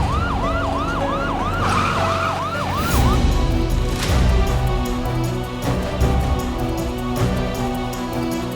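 Ambulance siren wailing up and down close by for a few seconds, then fading into continuous road noise with dramatic background music.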